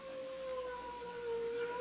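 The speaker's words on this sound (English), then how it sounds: "There's the ambulance." An ambulance siren wails in a steady, sustained tone, moderately distant and alone, with no voices over it.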